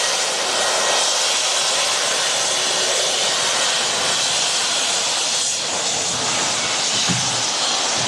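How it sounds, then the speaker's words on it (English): A 34-year-old Boeing 757 with Rolls-Royce RB211 jet engines roars steadily and loudly at Manchester Airport, a broad, sustained engine rush with no break. "Great sound there from the Rolls-Royce RB211s."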